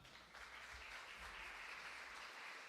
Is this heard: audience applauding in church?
yes